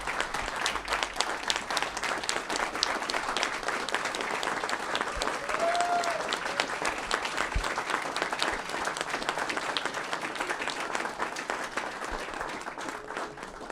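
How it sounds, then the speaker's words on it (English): An audience at an academic biology event's closing session claps steadily for about fourteen seconds, a dense, sustained round of applause that stays even before fading slightly at the end. "Can we please just really quickly give another round of applause to Dr. Cook and Dr. Haynes?"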